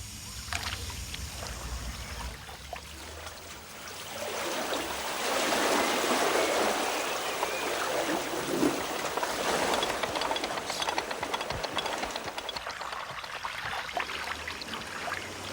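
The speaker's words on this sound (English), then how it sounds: "if I open the tap using this key, then the water will run in and the boat will come up." Water rushes into a canal lock beside a narrowboat, a faint steady gush that swells louder midway and keeps churning, with soft background noise and no talk.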